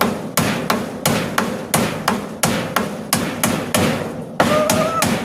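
A hammer pounds something in a steady series of about ten loud, evenly spaced blows, each strike sharp and ringing briefly before the next.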